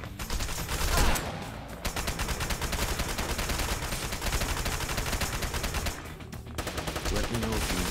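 Sustained automatic gunfire in the shooter game Wanted: Dead, a loud and dense rapid-fire rattle that runs almost without pause, with brief dips near the start and again toward the end, and a faint voice underneath.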